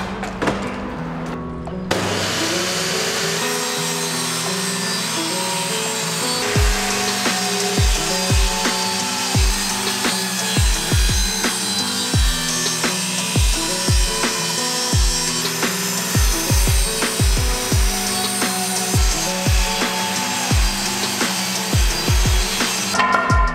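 A wooden board salvaged from bulk waste is hand-sawn into slats, giving a steady run of rhythmic rasping saw strokes, close and fairly loud, with no talking.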